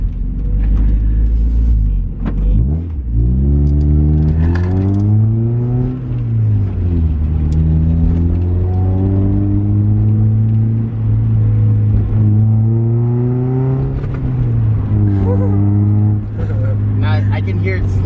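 An NA Mazda Miata with an ISR exhaust idles and blips its throttle close by, a deep steady drone whose pitch rises and falls with a few revs, running loud and continuous with some speech over it.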